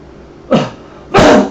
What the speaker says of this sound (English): Yes, I do have a cough, but it's not from COVID.